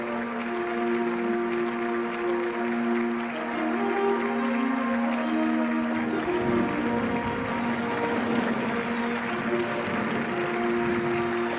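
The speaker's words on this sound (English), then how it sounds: "We would like to begin today's Peace Festival with a warm round of applause." Audience applause opening a Peace Festival in Korea, a broad steady wash of clapping sustained throughout with sustained tonal music or voices layered beneath.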